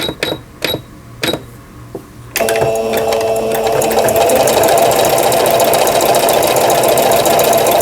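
A domestic sewing machine runs a straight stitch, starting with a few short separate bursts and then settling into a steady, continuous loud whirring that carries on without pause.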